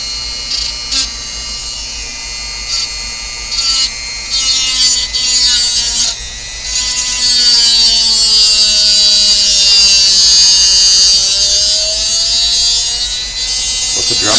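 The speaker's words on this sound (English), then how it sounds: "Let the Dremel do the cutting, guys." A Dremel rotary tool whines at high pitch while cutting down a car part, its tone shifting and rising under load, steady and close, with someone talking over it at times.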